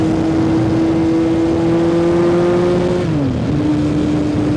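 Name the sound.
1973 Honda motorcycle engine revving on the throttle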